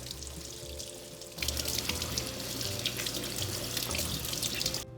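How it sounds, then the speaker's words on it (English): Fresh produce is washed under a running kitchen tap, water splashing steadily into a sink after a short quieter start, close and continuous with no talking. "Your next step is you're going to want to wash all of your fresh produce thoroughly."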